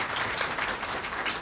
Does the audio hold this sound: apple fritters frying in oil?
no